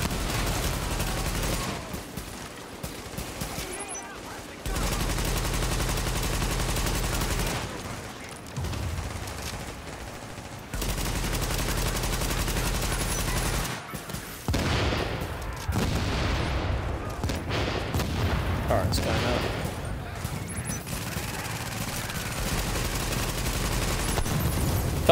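Sustained video game gunfire pours into a large enemy, dense bursts and fusillades running through most of the stretch with brief drops, loud and continuous over a rumbling low-end game soundscape.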